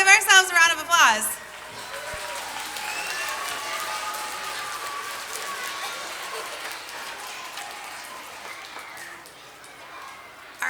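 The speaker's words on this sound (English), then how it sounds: "Let's give ourselves a round of applause." Applause from a school crowd at a Student of the Month assembly, a steady, moderately loud patter of many hands lasting several seconds after a brief voice opens.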